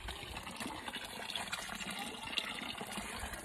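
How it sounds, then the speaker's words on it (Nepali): Water runs steadily at a village spring outdoors, a continuous broadband rush with no pauses, fairly close and moderately loud, with no voices over it. "हाम्रो चाहिँ यो पँधेरा हो, पँधेरा, पानी पँधेरा"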